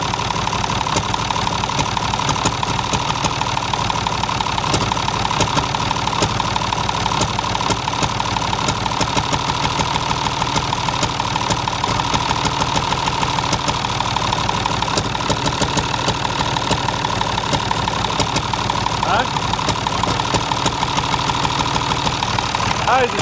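An old AEC Marshall eight-wheeler truck's diesel engine idles steadily with a low, even knock, a continuous mid-level rumble that carries on unchanged throughout.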